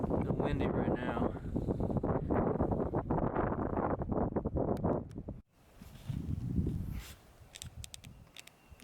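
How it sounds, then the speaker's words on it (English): Wind buffets a microphone outdoors on a hillside in the Illinois Ozarks, a loud continuous rumble for about five seconds, then a brief drop before gusty blowing returns with rustling. "A little windy right now."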